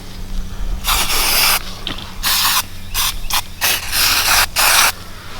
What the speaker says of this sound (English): Fly spray. That'll keep not only the flies, but it'll keep all the bugs off of it.